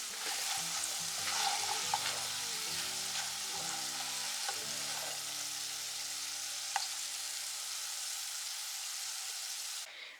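Potatoes fry in oil with a steady, soft sizzling hiss and a few stirring clinks, close but fairly quiet, with a low hum underneath early on and no voices.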